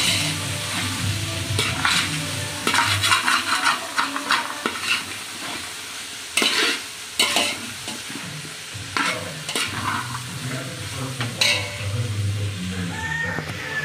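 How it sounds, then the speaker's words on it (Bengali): Tomato and green chilli fry in a pan for vegetable biryani, sizzling steadily while a spoon stirs and scrapes in irregular bursts, close up, with no talk. "এবার একটু ভেজে নিই, তারপরে মশলা দেবো। এই দেখেন টমেটো আর কাঁচা লঙ্কা দিয়ে দিচ্ছি।"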